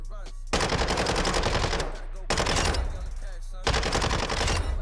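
A Mini Bak submachine gun in Call of Duty: Modern Warfare II rattles off three long, loud automatic bursts up close, separated by short pauses.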